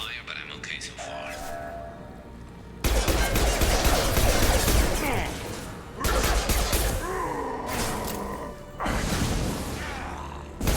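Weapons fire erupts in bursts during a Mass Effect firefight, loud rattling volleys breaking out in several separate waves with mechanical whooshes between them, and a voice talks through it.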